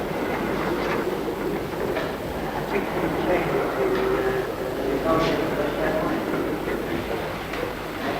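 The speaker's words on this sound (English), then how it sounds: "There's the North Briton coming in now." A steam train rolls into York station with rumbling wheels and faint clatter, a brief wheel squeal rising above the steady roar, heard from nearby.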